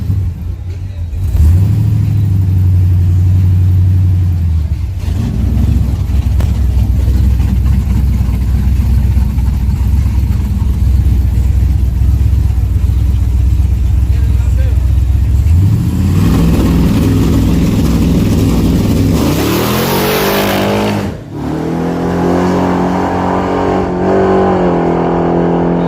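A drag racing car engine holds a loud, steady roar close by for most of the clip, climbing in pitch as it revs hard near the end during a heavy burnout, with a brief dip before it picks up again.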